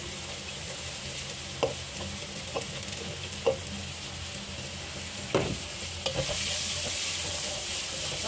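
Onions and carrots sizzle steadily in a hot pan for a fresh lumpia filling, while a spatula scrapes and taps against the pan every second or so as the vegetables are stirred.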